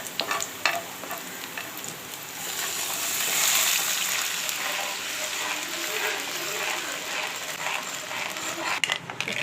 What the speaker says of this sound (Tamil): பால் 1/2 கிளாஸ் ஊற்றணும்.